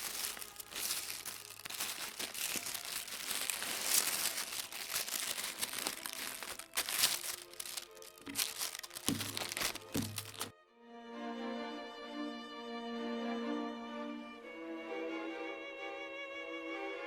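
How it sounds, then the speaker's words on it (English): Tissue paper is crumpled and pressed onto a paper hat for a fall craft, giving dense crinkling and rustling bursts for about ten seconds, followed by soft background music. "I'm gonna keep on putting the tissue paper"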